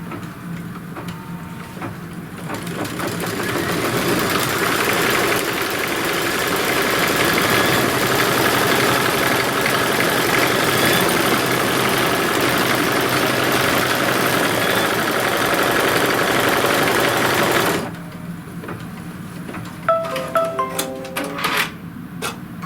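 An embroidery machine stitches a tack-down line on a leather wallet, a steady rapid mechanical whirring and clatter building up, running for about fifteen seconds, then stopping with a few brief clicks.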